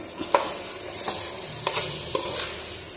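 Chopped tomatoes being stirred into gongura chicken in a pan, with close scraping strokes and light sizzling, several distinct stirring knocks spaced across a few seconds, no voices.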